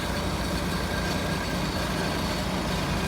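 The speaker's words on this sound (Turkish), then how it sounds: "Otobüs terminalindeyiz." A steady, dense rumble of idling heavy engines fills a bus terminal in Germany. The broadband drone stays constant throughout and no one speaks.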